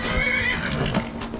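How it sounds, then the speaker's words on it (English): A horse in the video game Skyrim whinnies, a close, loud neigh that holds for over a second with a rough, breathy tone. "Don't be hitting my horse."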